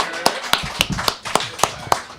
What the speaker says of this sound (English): Everybody make a special round of applause for DeMarco X.